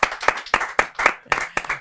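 Loud bursts of hand clapping for actor Tiku Talsania in a Gujarati podcast studio, a handful of sharp, uneven claps close by with no voices.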